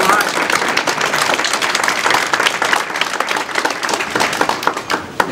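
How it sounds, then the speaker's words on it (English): An audience at a pottery bean pot demonstration by Therese Tohtsoni-Prudencio of Picuris Pueblo gives her loud, sustained applause, with some voices mixed in. "round of applause for Therese"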